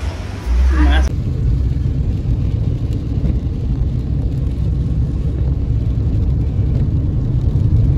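A Hyundai Verna car drives along with a continuous, fairly loud low road and engine rumble from inside the cabin, after a brief voice near the start.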